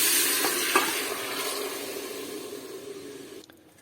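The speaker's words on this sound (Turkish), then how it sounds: "Şimdi kaynattığım işkembenin suyunu ekliyorum." Boiled tripe broth meets toasted flour in a hot pot, letting out a loud rushing hiss and sizzle that slowly fades over a few seconds before cutting off.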